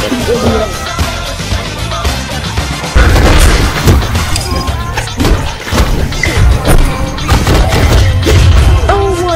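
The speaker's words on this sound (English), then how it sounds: "Got a bomb, but it's a bomb!" Bomb blast in the fighting game Brawlhalla: loud, dense crashing booms and thuds pile over busy game music and effects, with a heavy hit about a third of the way in.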